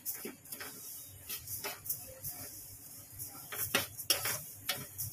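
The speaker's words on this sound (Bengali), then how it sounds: "দেখো তো মুগ ডালটা একটু ভেজে নিচ্ছি" Moong dal dry-roasting in a pan, with repeated scraping and clinking of a spatula against metal in uneven bursts, close and moderately loud, and no frying sizzle beneath.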